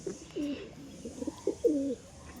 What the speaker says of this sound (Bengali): হেভি কবুতর, গিরিবাজ লাইনের নর কবুতর